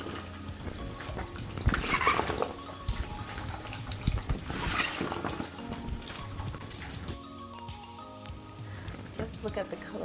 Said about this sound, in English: And allow it to continue to drip.